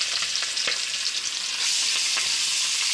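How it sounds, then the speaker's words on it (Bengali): Fish for a rui curry frying in hot oil in a wok, a dense, even crackling sizzle with a few stirring clicks, growing slightly louder halfway through. "এখন ভালো করে গরম হওয়ার পরে এক এক করে মাছগুলো ভেজে নিব।"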